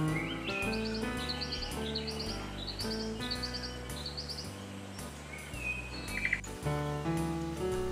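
An Eastern Yellow Robin calls in Australian bush, giving repeated short, bright rising chirps in quick bursts, fairly faint over a steady tonal background.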